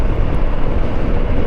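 BMW K1600B motorcycle exhaust, a steady, fairly quiet low rumble with broadband road and wind noise, continuous and close without breaks.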